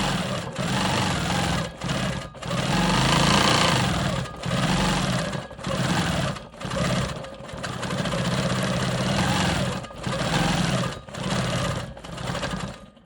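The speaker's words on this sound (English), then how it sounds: "I need to finish stitching in the ditch right here between these two fabrics" A Quilt Maker Pro 20 longarm quilting machine stitches in the ditch between two fabrics, its loud, steady motor hum broken by several brief pauses as it stops and restarts.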